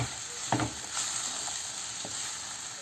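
Beans with tomato paste, peppers and tomato sizzle in a pan while a spoon stirs them, giving a couple of clear scraping knocks over a steady frying hiss, near and moderately loud with no talking.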